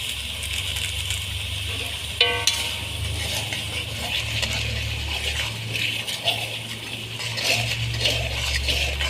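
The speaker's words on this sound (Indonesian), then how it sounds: "Kita aduk-aduk hingga bumbunya benar-benar matang ya." Fish roe fries with seasoning in a pan, a continuous close sizzle broken by the scrape and clink of a spatula as it is stirred, with no talking.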